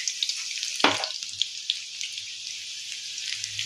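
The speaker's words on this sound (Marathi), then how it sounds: "तेल गरम झालेलं आहे, लसण टाकून घेते." Garlic dropped into hot oil, giving a steady bright sizzle that surges briefly as it hits the pan, then settles into continuous crackling with small pops, close and moderately loud, no voices.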